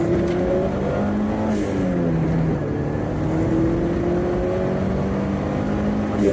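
A Vauxhall Nova GTE 16V with a turbo conversion pulls hard in second gear, its engine droning loudly and continuously with rising revs, heard from inside the car with no talk.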